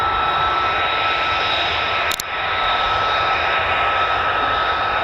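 A jet engine roars at RAF Lakenheath, plausibly an F-35 fighter, a steady loud broadband rumble with a high whine that holds throughout, briefly dipping for an instant midway.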